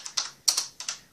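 Keys clack on a computer keyboard in a short burst of about five close, crisp taps in uneven rhythm, alone and fairly quiet.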